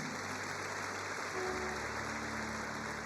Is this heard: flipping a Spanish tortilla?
no